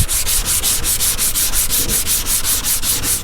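Rapid back-and-forth rasping of a sanding block rubbing primer on car bodywork, close and loud, about a dozen even strokes in steady rhythm with no talk.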